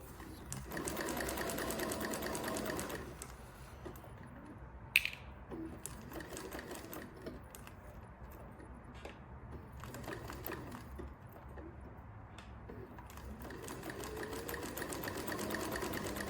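A JUKI LS 1341 walking foot sewing machine stitches with a steady mechanical whir and rhythmic clatter, running in stretches with a short pause near the middle. The machine sounds close but fairly quiet.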